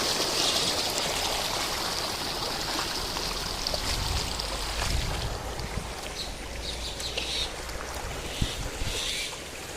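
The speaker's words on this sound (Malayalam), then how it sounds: "നല്ലൊരു വെള്ളം പോകുന്ന ഇതൊക്കെ ഉണ്ട്" Water rushes and trickles steadily in a stream outdoors, a continuous broad wash of sound with occasional faint bird calls.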